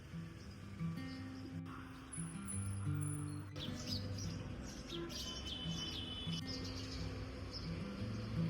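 Early-morning birds chirp outside a home, a quiet scatter of thin tweets and short calls over a low steady hum, with no one talking.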